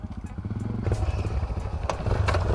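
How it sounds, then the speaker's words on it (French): A motorcycle engine starts up nearby, sputtering and clattering into an uneven idle over a couple of seconds. "démarrer une moto"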